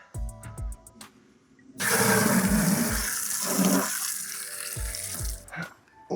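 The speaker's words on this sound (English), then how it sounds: "Water is running." Water gushes from a garden hose near a rabbit hutch in a steady, loud rush that starts abruptly after a short pause and runs for several seconds before cutting off, with brief squeaky handling noises before and after.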